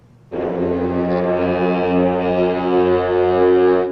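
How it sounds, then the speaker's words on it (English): War horn sound effect played during a live stream: one long, loud, droning horn blast with a rich buzzing tone that swells slightly and sustains without break to the end. "Can I get the war horn one more time, please?"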